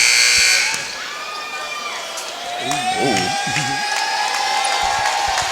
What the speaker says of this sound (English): As all of Bulldog faithful are on their feet and cheering on these Lady Bulldogs